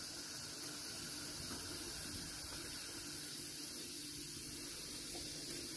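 An Afghan kazan heating on a gas stove gives off a steady, moderately loud hiss that holds evenly throughout, with a faint low rumble beneath and no voices.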